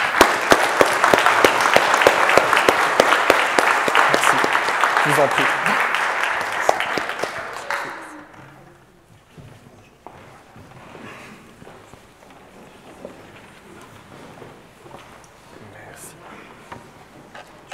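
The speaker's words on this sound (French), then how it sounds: "Je pense qu'on peut les applaudir." Church congregation applauding after a Sunday school presentation, loud sustained clapping for about eight seconds that then fades to a quiet room with brief spoken thanks.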